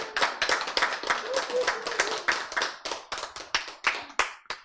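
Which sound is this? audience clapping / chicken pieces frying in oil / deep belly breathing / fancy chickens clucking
audience clapping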